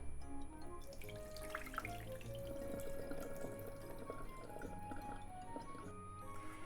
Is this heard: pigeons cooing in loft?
no